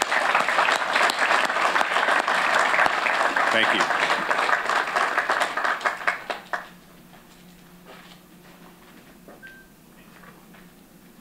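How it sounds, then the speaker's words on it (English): Outdoor applause for a landfill renewable natural gas project team at a cold ribbon-cutting, loud and steady for about six seconds before fading, then a brief spoken thanks over quiet background. "You all deserve a round of applause."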